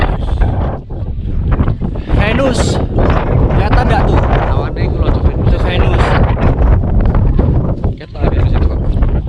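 Strong wind roars across the microphone on the summit of Mount Slamet, loud and continuous buffeting throughout, with someone talking over it.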